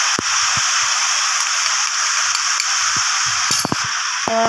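Paste of dried red chilli, green chilli and whole cumin seethes in hot oil for a jackfruit chicken curry, giving a loud, steady hiss with a few scattered taps and clinks of a spoon.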